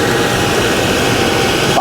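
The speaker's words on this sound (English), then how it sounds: "Using my nice Travis Wirtz TW90. It's my favorite machine to use when I'm shaping handles." A Travis Wirtz TW90 belt grinder with a 60-grit belt shapes a knife handle, giving off a loud, steady, roaring hiss of abrasive on material that holds without a break throughout.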